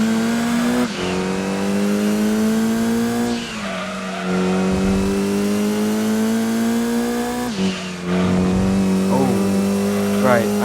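Racing-game audio from Gran Turismo 2: a car engine loudly revs and holds a high, strained note, with repeated tire squeals as the car oversteers. Someone talks over the action.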